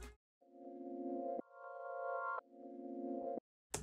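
Reversed, chopped sine wave playing chords in FL Studio: four swelling synth tones that rise in loudness and cut off sharply, the third pitched higher, with brief gaps of silence between.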